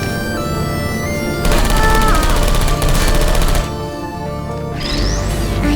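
Turrets in the video game Portal 2 firing bullets in loud, rapid automatic bursts over droning game music, the gunfire swelling for a couple of seconds before easing into the background.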